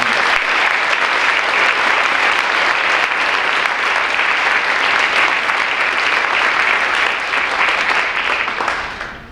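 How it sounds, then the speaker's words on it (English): Sustained audience applause at a Veterans Day ceremony, a dense even wash of many hands clapping that holds steady for most of the span before tapering off near the end. "So a round of applause to them."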